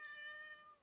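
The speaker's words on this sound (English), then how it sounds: "My cat's singing too." A pet cat meows in a drawn-out, tonal call lasting under a second, faint and fairly distant, with no talking over it.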